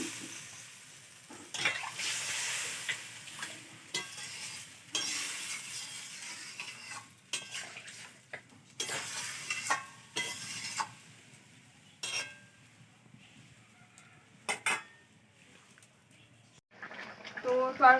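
Water poured into sautéed vegetable curry in a Sundarban village kitchen, giving intermittent loud hissing and splashing bursts with stirring and scraping between them, close by.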